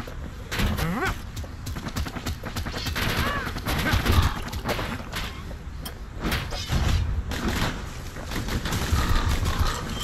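Rapid gunfire from the kid's guns in the video game Bastion, a dense run of shots and impacts mixed with growling creature noises and game effects, fairly loud throughout.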